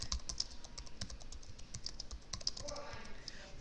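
Fingers type on a computer keyboard in a quick, uneven run of light clicks and taps that continues steadily throughout, fairly quiet and close, with no talking.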